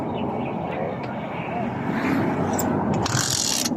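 A Suzuki Smash 115 motorcycle, nine years old and recently stalled with an electrical fault, starts in one click and idles with a loud, steady engine drone, close by under excited talk.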